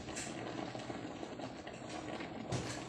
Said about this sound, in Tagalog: Yung kulo niya guys, grabe.